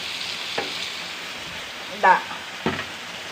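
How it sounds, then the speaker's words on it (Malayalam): Fish frying in a pan for an evening meal, a steady close sizzle with a few short clatters of stirring or turning, and a brief voice under the hiss. "അത്താഴത്തിനുള്ള മീനാണ് ആ പൊരിക്കുന്നത്"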